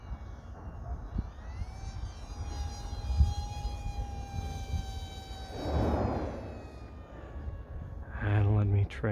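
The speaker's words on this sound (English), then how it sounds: "let's try low," An SU-35 jet makes a low, fast pass, its steady whining engine tone swelling into a broad rushing whoosh as it goes by, with a voice briefly audible at the end.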